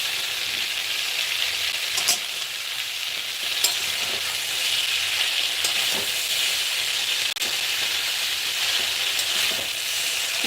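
Spinach added to a hot frying pan with shrimp sizzles in a steady, loud hiss, with a few soft stirring clicks over the continuous frying.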